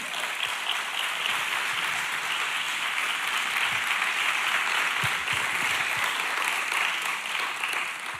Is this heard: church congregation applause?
yes